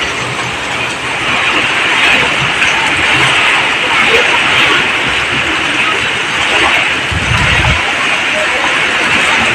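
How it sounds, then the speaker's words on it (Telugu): Heavy rain mixed with hail pounds a terrace roof during a summer storm in Khammam, a dense, loud, steady hiss and clatter that runs throughout with no letup. "ఫుల్ వర్షం చూడండి, డాబా మీద అట్లా వస్తుంది"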